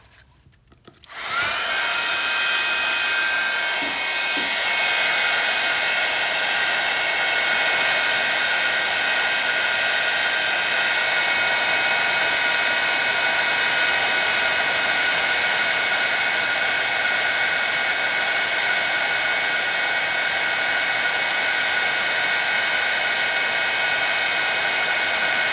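A heat gun melting embossing powder blows a steady, loud hot-air roar with a whining tone, starting after a brief quiet moment and running unbroken to the end.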